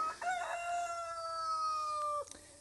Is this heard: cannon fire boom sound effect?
no